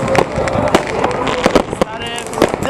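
Fireworks and cold-fire sparklers pop and crackle in scattered sharp bursts during a New Year's Eve celebration in Bydgoszcz, Poland, with excited voices talking nearby throughout.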